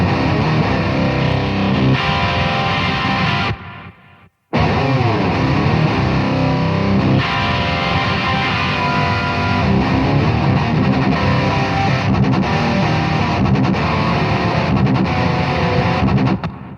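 Electric guitar played through a Neural DSP Mesa Boogie MKII C+ amp plugin, a loud, dense distorted tone sustained throughout with a brief drop to near silence around four seconds before the playing resumes.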